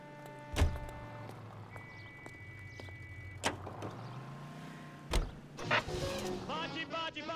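A car drives in the L.A. Noire video game, with a low steady engine hum, a few sharp thumps and clunks, and brief tonal chimes over it.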